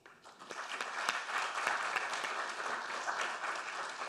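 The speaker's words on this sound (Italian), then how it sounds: "accogliamolo con un applauso." A room of attendees gives warm applause to welcome a guest speaker at a talk on capitalism; steady, fairly close clapping swells after the first half-second and holds at an even level throughout.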